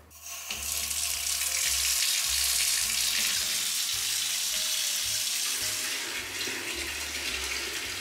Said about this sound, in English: I'm gonna run a bath.